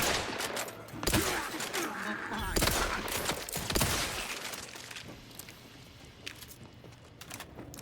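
Rapid bursts of gunfire in the video game The Outer Worlds 2, sharp cracks clustered early then thinning into scattered shots, with faint talk underneath.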